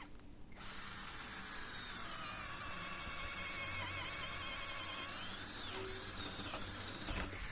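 A Hasston cordless drill at low speed spins up and drives a 25 mm bit into wood, holding a steady, loud, high-pitched motor whine for several seconds with slight wavering near the end.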